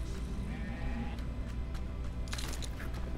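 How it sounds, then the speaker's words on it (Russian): Sheep bleating in the video game Grow Home, a few short cries over a steady low background hum, clearest near the end. "Там, смотрите, овца какая-то сидит."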